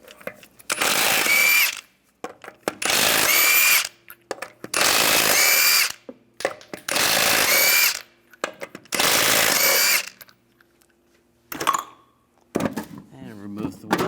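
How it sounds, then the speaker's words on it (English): A power tool with a 22mm socket spins lug nuts off the left front wheel of a 2005-2010 Dodge Dakota, sounding five loud, close bursts of about a second and a half each, separated by short pauses and a few clanks. "Use a 22mm socket, take the lug nuts off."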